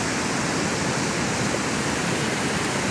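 Waterfall on a Scottish Highland nature reserve, a steady, broadband rushing roar of falling water that holds constant and fairly close throughout, with no voices.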